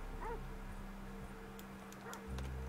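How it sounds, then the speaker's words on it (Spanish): Dogs in the video game Red Dead Online give a few faint yips and whimpering barks in the distance over a low steady game hum. "Aquí escucho perros."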